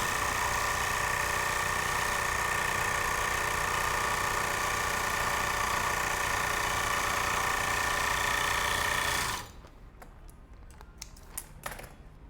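An overlock sewing machine with a newly fitted, balanced cutting blade runs steadily and loudly for about nine seconds, a dense continuous whirring hum, then stops abruptly, leaving a few faint clicks and taps.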